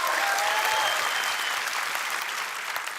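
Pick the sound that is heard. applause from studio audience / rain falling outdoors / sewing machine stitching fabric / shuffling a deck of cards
applause from studio audience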